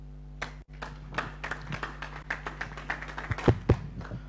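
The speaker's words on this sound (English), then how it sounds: "Another round of applause" Applause for a speaker at a climate change strategic meeting, a scattered round of hand claps that rises and falls over a low steady hum, fairly quiet and a little distant.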